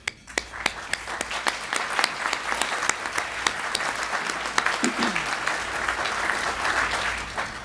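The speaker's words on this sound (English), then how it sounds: "Margie, please stand so we can give you a warm round of applause." A warm round of applause at a Sight Savers America Hero for Sight awards event, opening with sharp individual claps that swell into full crowd clapping, close and steady for several seconds.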